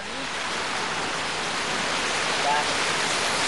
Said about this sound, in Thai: ท่านผู้ชมจะเห็นว่านี่ ฝนนี่กระหน่ำลงมาครับ